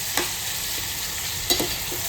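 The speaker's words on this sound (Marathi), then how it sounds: "चला आता कांदा, टोमॅटो, मिरच्या मस्तपैकी तेलावर शिजवून घेऊ" Onion, tomato and green chillies fry in hot oil, giving a steady, close sizzle throughout with a couple of brief stirring clatters from the pan.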